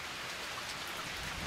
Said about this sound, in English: Now it's just a sprinkle again